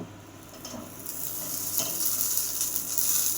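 Pointed gourd paturi parcels fry in oil in a wok, giving a close, steady sizzle that grows slightly louder over a few seconds, with no talking.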